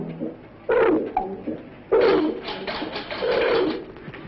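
Pigeons coo in a few throaty, rolling phrases, close and fairly loud, separated by short pauses with no talk.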